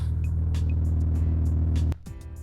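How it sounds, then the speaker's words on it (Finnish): An Audi B5 RS4 with a straight-pipe exhaust drones with a deep, loud, steady rumble up close, then the engine note drops abruptly near the end, leaving a quieter idle. "Ai että tuo kuulostaa kivalta tuo suora takohormista."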